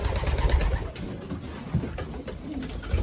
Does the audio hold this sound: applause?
no